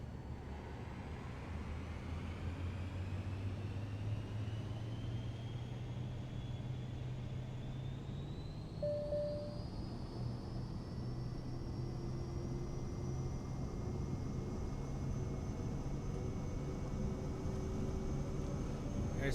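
Airliner engines spool up during a takeoff roll on runway 26 in Microsoft Flight Simulator, a steady loud roar with rising whine and low rumble building over the run, no talking.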